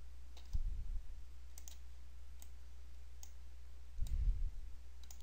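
A computer mouse clicks while drawing views are created, giving two soft, close clicks several seconds apart over a faint background hum.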